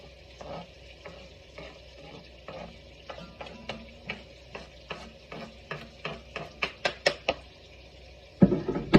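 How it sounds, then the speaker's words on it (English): Bell peppers with white and green onions are stirred in a frying pan for ground beef chili beans: a soft sizzle under a run of rhythmic utensil scrapes and taps that grow louder, ending in a few heavier clanks. "Take that, start stirring that around."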